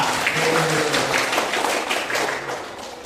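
Applause fills a seminar hall after the audience is invited to clap for everyone, a dense patter of many hands at moderate level with a brief voice near the start, then gradually thinning toward the end.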